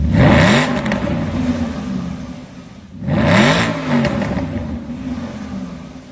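A naturally aspirated 4.3 V8 engine revs hard twice, each rise climbing steeply then falling back to a throaty idle, loud and close with no talking.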